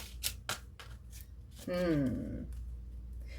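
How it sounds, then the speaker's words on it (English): Quick papery riffles and taps of tarot cards being shuffled, followed by a person talking close to the microphone. "give it another shuffle"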